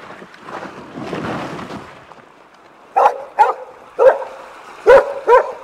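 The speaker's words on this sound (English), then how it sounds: "Bark. Hunt around. Sniff everywhere." A dog in a Famous Five audiobook scene near a boat landing gives five sharp, loud barks in quick succession after a softer rustling stretch, with no talk.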